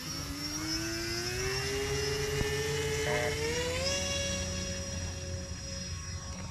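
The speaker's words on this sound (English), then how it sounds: "I'm gonna fly this plane around the field." A Binary Aurora RC plane on its maiden flight around a field at evening gives a steady, whining motor drone that climbs in pitch as the throttle changes, fairly close and continuous.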